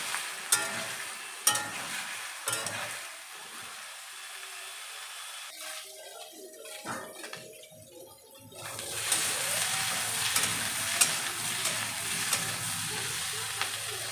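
Mixed vegetables for a spinach curry are stirred and lightly fried in a pan, with sharp spatula clacks and scraping, a quieter stretch of shuffling, then a steady sizzle returning toward the end.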